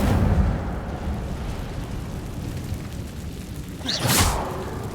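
A low rumbling burst from the Incendio fire spell in Hogwarts Legacy opens loud, settles into a roaring crackle, then flares again with a bright whooshing flare near the end.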